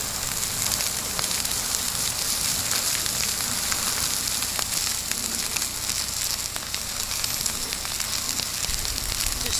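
An outdoor campfire crackles and sizzles with a steady stream of sharp pops over a soft hissing bed.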